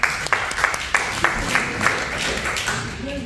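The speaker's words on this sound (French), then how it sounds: "On l'applaudit très fort." An audience at a business seminar applauds, with several strong, distinct claps standing out over a softer bed of clapping and some murmuring voices underneath, fading slightly toward the end.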